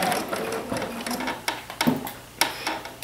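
Sewing machine stitching paper onto knit fabric, a quiet rapid mechanical whir broken by several sharp clicks and thumps, close by with no talking.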